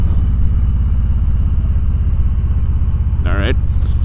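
A 2020 Harley-Davidson Tri Glide Ultra trike engine rumbles loud and close while riding, a steady low throbbing pulse, with a brief higher tonal sweep near the end.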